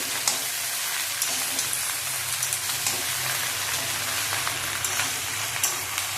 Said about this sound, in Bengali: আমি এবার আলু আর ভেন্ডিটা দিয়ে দেবো। নেড়ে চেড়ে নেবো।